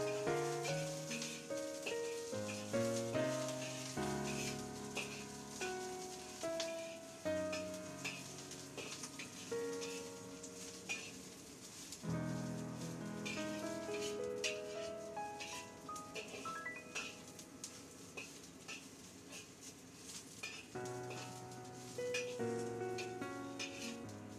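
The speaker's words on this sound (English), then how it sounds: "Fry the tofu puff." Tofu puffs fry in a pan with a steady, close sizzle and occasional stirring scrapes, under a continuous melodic tonal background.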